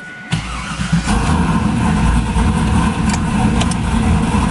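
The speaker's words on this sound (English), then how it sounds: "we're gonna go for a little drive, make sure the cooling system's actually all done" A Pontiac Trans Am with a newly fitted water pump cranks and fires up, then settles into a loud, close, rumbling idle with a slight rev.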